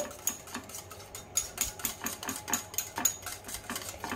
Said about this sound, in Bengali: মাখনা রায়তা, তার জন্য আমি দই ফেটিয়ে নিচ্ছি।